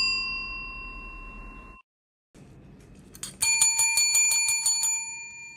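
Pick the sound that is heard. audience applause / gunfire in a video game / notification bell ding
notification bell ding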